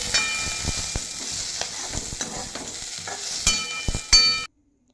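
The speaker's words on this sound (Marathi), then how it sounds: "थांब, तेल टाकून भाजून घेऊ." Chapati roasting in oil on a hot griddle, a steady close sizzle with scraping and light clinks over about four and a half seconds before cutting to silence.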